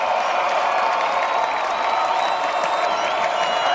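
Home crowd at a high school football game between Lone Peak and American Fork roars on its feet, a dense, sustained wash of cheering and clapping that stays loud and even throughout.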